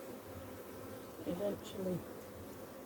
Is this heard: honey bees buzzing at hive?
yes